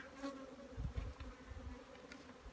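Honeybees buzz around a hive during feeding, a close, low steady drone with individual bees passing by.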